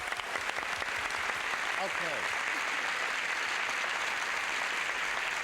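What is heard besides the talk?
studio audience applause for game show players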